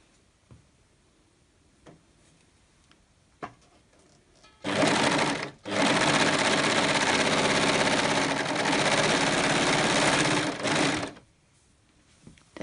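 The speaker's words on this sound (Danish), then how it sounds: "jeg syr den ene sidesøm på begge hold flæser" A sewing machine stitches a side seam on two tiers of fabric ruffles for a child's dress, a quiet pause giving way to a loud, continuous whirring run of about six seconds with a brief stop partway, then quiet again.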